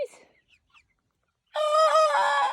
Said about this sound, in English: Are you going to crow?